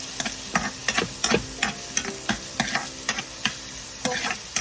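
Spatula scraping and stirring chayote with egg in a pan, a steady run of sharp clicking strokes roughly every half second over a soft, constant sizzle, close and moderately loud.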